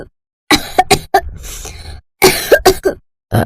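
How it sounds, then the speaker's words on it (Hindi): A woman coughs repeatedly in harsh, loud bursts, a few quick coughs, a pause, then another run of coughs, close and with no talking. "उनकी माँ जमीन पर बड़ी खांस रही थी"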